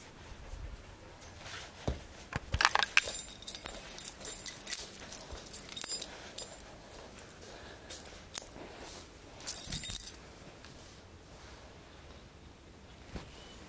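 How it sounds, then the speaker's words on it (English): A dog picks up and handles a bunch of keys, producing bursts of metallic jangling close by between quieter stretches of rustling and handling noise. "Find the keys, Abby"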